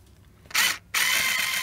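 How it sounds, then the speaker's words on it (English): A power driver with a Phillips bit spins out plastic cover screws on a Vespa GTS 300 scooter, giving two loud, close whirring bursts, the second longer and steady, with no talk. "this is just again Phillips screwdriver, same, I use the same bit"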